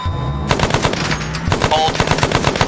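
General purpose machine gun fire during a combined arms military exercise, a rapid burst of loud close shots with a brief pause before the firing resumes, rattling steadily over low engine rumble.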